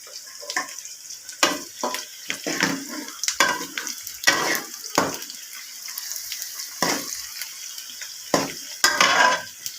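Onions fry for biryani with intermittent crackling sizzle bursts and stirring clatter against the pot, close and uneven, with no one speaking.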